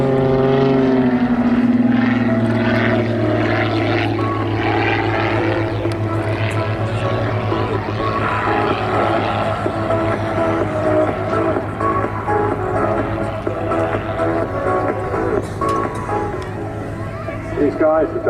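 Two Mudry CAP 232 aerobatic planes perform at the Southport airshow, their propeller engines droning loud and steady with a shifting pitch that swells and fades, heard under a commentator talking over the whole stretch.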